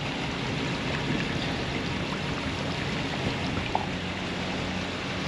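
After a hail storm, floodwater rushes through a campsite as a steady broadband wash of running water, constant and close, with no break.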